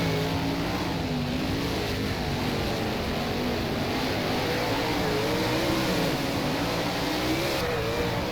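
A 410 sprint car's engine on an rFactor dirt track held against the rev limiter, droning loud and close with a steady buzzing whine that wavers slightly in pitch.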